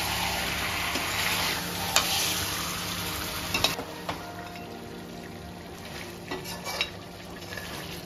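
Mutton pieces fry in a little oil in a pan while being stirred for a saffron bhuna, giving a steady close sizzle broken by occasional scrapes and clinks of the spoon.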